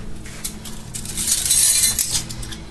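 Glass canning jars clink and knock against each other as they are handled, a close cluster of bright, light taps and rattles with no talking.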